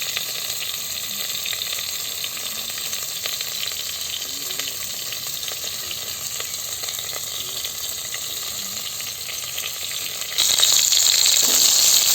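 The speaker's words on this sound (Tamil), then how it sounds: "சின்ன வெங்காயமும் தக்காளியும் நம்ம இந்த மாதிரி வதக்கி" Shallots and tomatoes sauté in a pan, giving a continuous, fairly loud sizzle that steps up brighter and louder near the end, with no voices over it.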